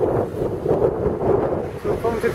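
Strong wind buffets the microphone in a steady low roar in a rocky bay at Agiofarago Gorge, Crete, with faint water sounds in the background and a voice briefly audible near the end.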